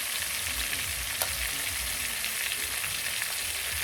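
Onions with garlic and ginger paste sizzle steadily in hot oil, a dense continuous hiss with faint stirring scrapes, close and even throughout, no voices.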